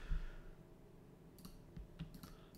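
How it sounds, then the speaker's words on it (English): A computer mouse clicking while copying a web address: a few soft, close clicks, spaced irregularly across a quiet background. "You can right click copy or control C."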